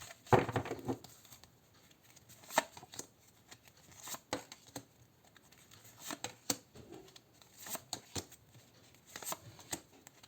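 Tarot cards are shuffled and handled in soft, irregular bursts of riffling and tapping, close by and fairly quiet, with no talking.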